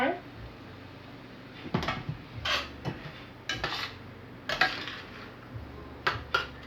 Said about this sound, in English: you're going to mix in with your big stainless steel spoon